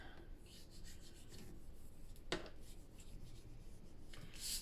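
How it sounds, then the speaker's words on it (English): Paper being folded over and pressed onto chipboard, a faint, soft rubbing and scraping heard close by with one brief sharper crinkle partway through. "I'm just folding it over the chipboard."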